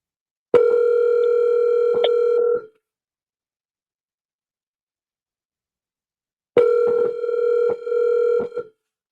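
Phone dial tone during an outgoing call, a steady tone for about two seconds, silence, then the tone returns with brief dialing beeps cutting in.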